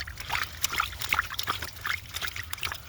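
Oil drains and trickles from a Mercedes V6 diesel oil cooler, a faint, irregular dribbling and splashing heard up close with no talk.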